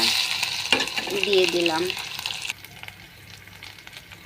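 Ginger and garlic paste hit frying onions with cardamom and cinnamon in a hot pan, a loud crackling sizzle with stirring scrapes that drops to a quieter simmer halfway, while a voice speaks briefly.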